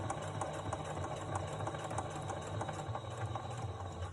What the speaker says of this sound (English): I'm going to increase my stitch length, I almost forgot, to a 3 for top stitching